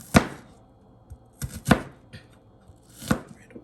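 Knife chopping red onion for a salad on a cutting board, three distinct clusters of close, crisp cuts spaced about a second and a half apart, with quiet between them.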